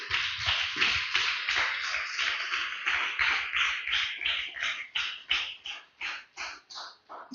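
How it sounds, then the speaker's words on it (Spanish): A church congregation claps loudly for the Lord, a steady run of sharp, fast claps that continues throughout, gradually thinning into separate slower claps at the end, with no talking. "Denle un fuerte aplauso al Señor, aleluya."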